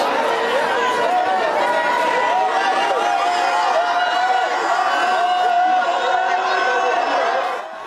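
A huge crowd of about 11,000 people clamoring at a food distribution center in Dagahali refugee camp, a dense, loud, continuous roar of overlapping shouting voices that stays steady throughout.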